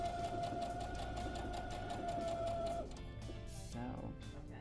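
A domestic sewing machine runs steadily, chain piecing quilt patches joined with seam glue along a quarter-inch seam, a close, even whirring hum that stops partway, followed by quieter handling noises; talk occurs nearby.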